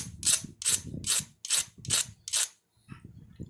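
Six evenly spaced rasping strokes of an abrader drawn along the edge of a knapped glass piece during pressure flaking, each a bright scraping burst about half a second apart, close and clear, ending with a few softer low taps.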